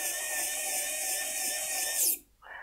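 A HYCHIKA HYQ2001 cordless precision screwdriver drives a screw into plastic with a steady high motor whine for about two seconds, then cuts off abruptly, close up and without talk.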